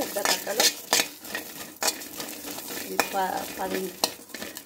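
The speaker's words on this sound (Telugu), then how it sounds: "నువ్వులు వేపుకున్నా, పచ్చిమిర్చి వేపుకుంటున్నా" Green chillies and sesame seeds frying in a pan for a chukka kura chutney, crackling sizzle under brisk stirring with sharp metal utensil scrapes and clinks against the pan, close up, no speech.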